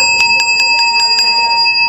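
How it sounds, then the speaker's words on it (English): A hand bell rung in a senior center exercise class, six bright, rapid, evenly spaced metallic rings with sustained ringing overtones, loud and close. "Okay, well, I got to ring the bell."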